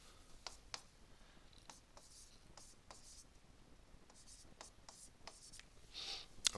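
Math is written on a board in faint, scratchy strokes that come in short irregular bursts, quiet and close, with a slightly louder stroke near the end.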